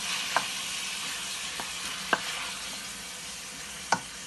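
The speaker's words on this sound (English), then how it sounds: "Stir it." Squid and spinach are stirred in a pan over a soft, quiet sizzle. Three distinct utensil clacks against the pan are spaced a couple of seconds apart.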